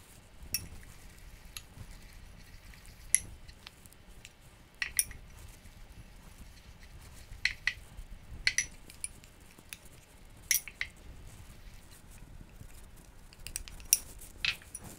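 Dry ingredients are worked into eggless coconut cookie dough in a bowl, giving soft scraping and scattered light clinks of a utensil against the bowl at an irregular pace, quiet and close.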